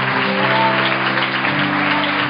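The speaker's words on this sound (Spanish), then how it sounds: "denle un aplauso fuerte a la visita" A church congregation at a missionary service applauds visiting guests with dense, continuous clapping, while a sustained organ or keyboard chord plays underneath.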